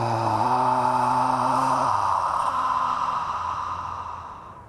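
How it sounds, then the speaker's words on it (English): A long, slow exhale through the mouth during a beginner qigong breathing exercise, a breathy airy sigh with a faint voiced hum that gradually fades to quiet over several seconds. "I exhale through the mouth."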